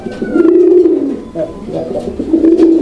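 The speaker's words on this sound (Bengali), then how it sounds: "আজকে কিন্তু আমরা অনেক কষ্ট করছি কবুতর ডাকার জন্য" Raj-golla pigeons coo close and loud in repeated low, rolling phrases, with a voice briefly audible in the background.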